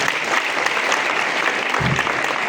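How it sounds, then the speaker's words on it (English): A school audience at a Ghana National College tourism club event claps steadily for about two and a half seconds, a dense, loud wash of hands with a faint low thump near the end. "Clap for them once again."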